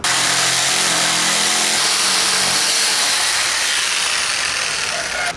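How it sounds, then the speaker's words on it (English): A bandsaw cuts a circle from a block of padauk wood, a loud, close, continuous broadband roar of blade and motor with a grinding texture, holding steady for several seconds before easing slightly at the end. "and then I'll get the circle cut out on this bandsaw"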